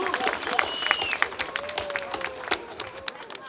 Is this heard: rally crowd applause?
yes